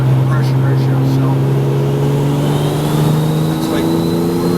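A TPC Racing Porsche 987 Cayman with a turbocharged 3.7-litre engine pulls hard under steady acceleration, a loud, continuous droning engine note that rises slowly in pitch from start to finish.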